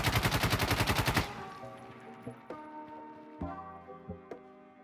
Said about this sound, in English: we're going to shoot this weapon, L85A2, full auto.